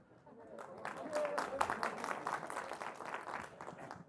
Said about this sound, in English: You don't need to clap again.